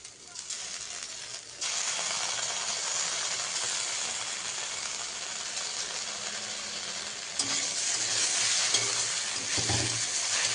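Soybean chunks sizzle and fry in a pan while being stirred, a steady loud crackle with scraping and clattering strokes throughout, growing busier toward the end, with no talking.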